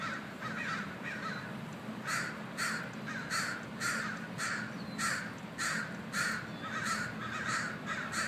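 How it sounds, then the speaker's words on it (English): Several crows caw outdoors in a steady series of harsh, fairly loud calls, about one every half second, over a low background hum, with no talking. "Yeah, well, crows."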